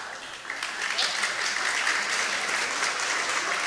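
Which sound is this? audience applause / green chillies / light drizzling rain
audience applause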